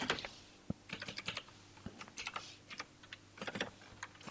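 Rapid, uneven clicks of keys on a computer keyboard come in quick bursts with short pauses, close and moderately quiet, with no voice over them.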